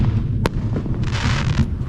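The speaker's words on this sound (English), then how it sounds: "It's storming and fireworks going off?" Fireworks popping outdoors on the Fourth of July during a thunderstorm, one sharp crack standing out near the start, then a brief burst of crackle over a constant low rumble of wind and rain.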